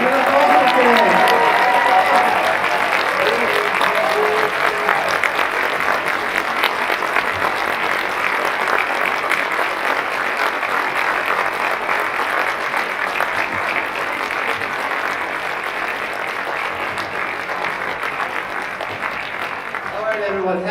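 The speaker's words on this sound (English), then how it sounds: "Round of applause for our celebrating band and our vocal band." Sustained applause from a school winter concert audience for the 7th grade band and vocal band, a dense, even wash of clapping lasting about twenty seconds, with some voices near the start.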